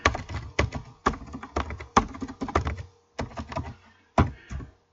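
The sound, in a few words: typing on computer keyboard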